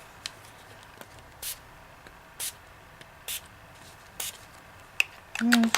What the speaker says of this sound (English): Let's see what happens if I spray it again